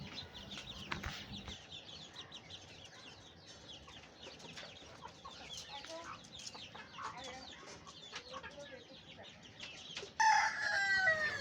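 Hens cluck and a rooster crows amid scattered poultry calls from chickens and ducks at morning feeding, moderately close, with a louder burst of squawking near the end.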